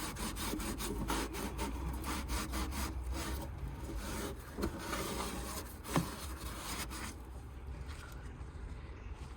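Scrubbing and rubbing while cleaning the battery compartment of a Mercedes-Benz CLK230 Kompressor (W208), with a corroded tray, heard up close as steady scraping strokes that end in a sharp knock near the end.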